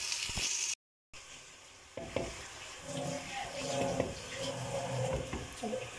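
Onions dropped into hot oil in a pan, a brief gap then a sizzle that builds into a busy spatter with stirring scrapes and clinks, fairly close and moderately loud.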